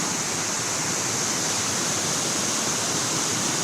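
A waterfall in Trabzon rushes with a loud, dense, unbroken roar of falling water, close by and steady throughout.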